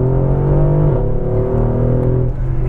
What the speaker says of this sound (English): Acceleration, I'm gonna floor it.